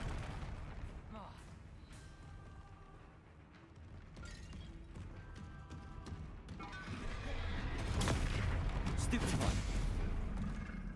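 Confringo spell blasts in the video game Hogwarts Legacy, repeated booming bursts with crackling impacts that build louder toward the end, with a voice speaking in places.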